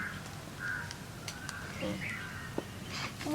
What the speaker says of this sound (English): Look, it's a bird.